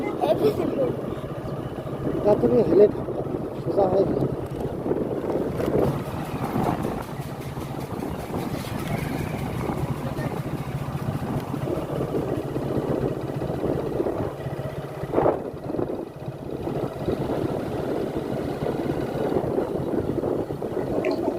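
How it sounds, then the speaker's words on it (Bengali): A motorbike ride heading out from home toward a village fair, a steady low engine drone with rushing wind throughout, with a voice talking over it. "বাইকে করে যাচ্ছি"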